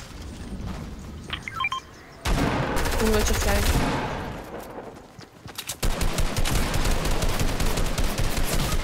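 Gunfire in a shooter video game: an early scattered burst, then sustained rapid automatic fire, a short lull, and a loud dense fusillade that continues to the end.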